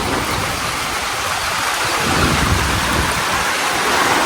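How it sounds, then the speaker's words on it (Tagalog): Heavy rain drumming on metal roofing sheets over a house under construction, a dense, loud, unbroken roar of water that holds steady throughout without any voices. "Ulan na. Grabe yung ulan no."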